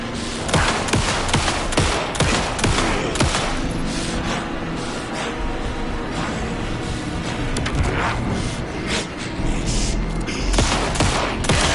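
Rapid, sustained gunfire in the video game Alan Wake 2, dense bursts of loud shots and fusillade crackling nearly continuously, close and intense with occasional heavier booms.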